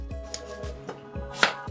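A knife slices through an apple on a cutting board, several crisp chops landing in a steady rhythm, close and fairly quiet, with no talking.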